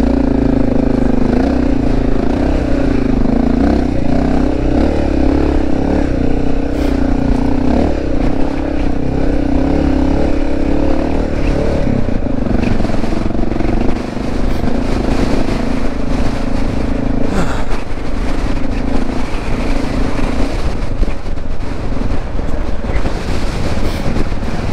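A Honda XR650L dirt bike engine drones loudly and steadily at an off-road park, heavily buffeted by wind noise, with no clear rise in revs.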